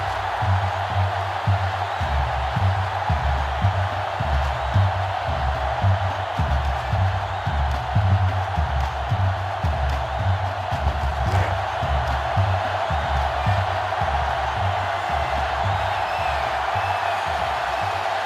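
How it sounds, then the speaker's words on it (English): A stadium crowd roaring at a Michigan versus Ohio State college football game in NCAA Football 2005, a loud sustained wall of cheering with rhythmic chanting pulses throughout, heard alone without talk. "It's arguably the loudest crowd in the nation, and they are turning it up a notch."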